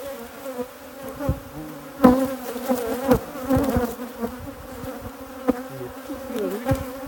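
Honeybees buzz densely at an open beehive during royal jelly harvesting, a close, steady insect drone with sharper passes as individual bees fly by the listener.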